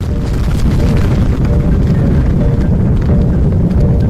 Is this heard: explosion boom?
yes